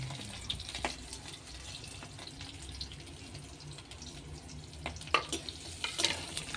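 Chopped onion frying in a pan as a tempering for masoor lentil dal. A soft sizzle and stirring run underneath, with a few sharper clinks and scrapes near the end. Nobody speaks.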